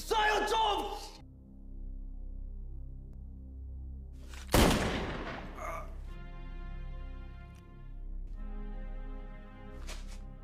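A single sharp gunshot in a drama set at the Korean border, one loud abrupt crack that decays quickly, with a voice just before it and a low musical hum underneath.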